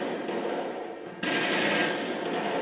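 Rapid automatic gunfire from the video game Killzone 3, a dense, continuous burst that grows louder after the first second.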